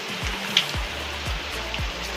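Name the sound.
heavy rain falling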